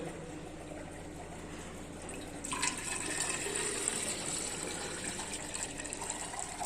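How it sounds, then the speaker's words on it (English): Water pours into a 700 ml ice can at an ice plant, a steady broadband rush that swells noticeably partway through and continues to the end, with no talk. "so now we pour this water into this can"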